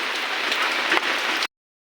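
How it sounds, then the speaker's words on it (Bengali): Rain falling, a steady dense hiss of drops on surfaces that cuts off abruptly after about a second and a half. "বৃষ্টির মধ্যে কাজ কাম ভালো লাগে না"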